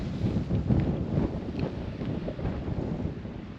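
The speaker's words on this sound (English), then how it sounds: "Again, quite blowy the higher we get up." Steady wind buffets the microphone on an exposed, misty Lake District hillside, a loud continuous roar with gusty swells and no talk.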